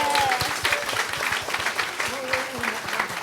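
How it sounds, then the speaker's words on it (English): Sustained applause from a crowd at an awards celebration, steady clapping filling the room for the whole stretch, with a voice or two faintly mixed in. "Let's give another round of applause for EunSook Lee."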